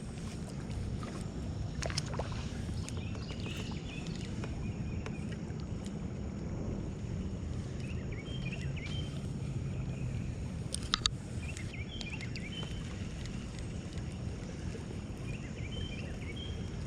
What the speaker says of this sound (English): I can hear the creek in there gurgling.